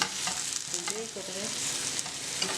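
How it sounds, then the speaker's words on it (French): Courgette slices frying in a pan until golden, a steady close sizzle with faint stirring scrapes and small crackles throughout. "on laisse cuire jusqu'à ce que ça devienne doré"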